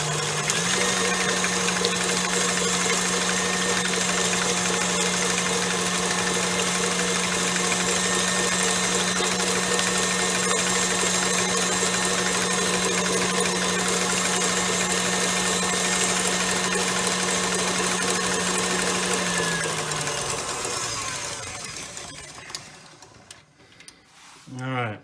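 An electric mixer whirs at high speed beating egg whites for hard meringue, a loud continuous motor hum that holds steady for about twenty seconds before winding down and stopping.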